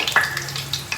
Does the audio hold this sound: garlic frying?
yes